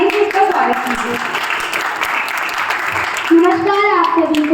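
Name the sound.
applause welcoming a speaker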